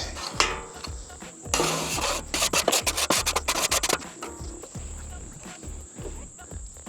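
A cleaning stone scrubs across the steel top of a Blackstone griddle, harsh gritty rubbing strokes close up, with a burst of rapid back-and-forth scraping in the middle before slower passes.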